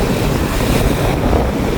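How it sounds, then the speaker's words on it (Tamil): Rough, storm-driven sea churning and crashing at Keerimalai, a loud continuous roar of surf mixed with heavy wind buffeting the microphone. "எப்படி வந்து கொந்தளிக்கிண்டு பாருங்க கடல்"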